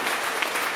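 An audience at a live gratitude talk applauds; a brief burst of dense, even clapping fills the moment.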